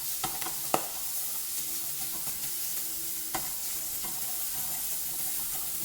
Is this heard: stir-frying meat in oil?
yes